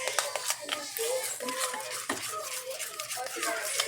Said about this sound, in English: It's kind of thick and it can get a little hard to stir, but as it melts, it gets easier to mix.